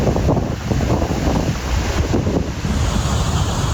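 Water crashes down the waterfalls of Wadi El Rayyan in Egypt's Fayoum oasis as a loud, steady roaring wash, mixed with buffeting wind on the microphone, and no voices.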